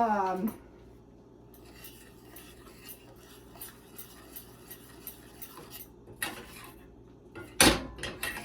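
A wobbly, cheap thrift-store pan clatters and scrapes on a kitchen surface in scattered knocks and rattles, capped by a sharp metallic bang near the end, in an otherwise quiet room.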